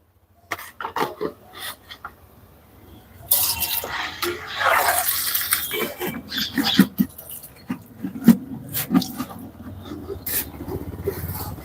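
Water splashes over a brass plate as it is rinsed clean, a few seconds of rushing, pattering flow amid scattered close clinks and handling noises.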